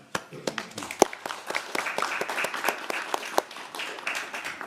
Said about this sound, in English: And round of applause for them.